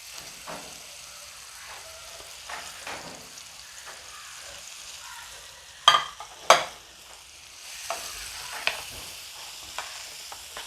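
Three sliced onions fry in hot oil for a Kerala mackerel masala, with a soft steady sizzle broken by spoon scrapes and a couple of sharp clanks against the pan; no voices.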